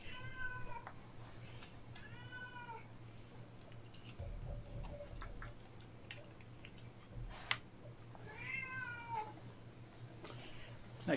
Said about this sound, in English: That's the cat which you can still hear.